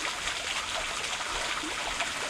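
Natural spring water trickles steadily down beside a hiking trail in Japan, a close, continuous bright splashing and gurgling with no voices.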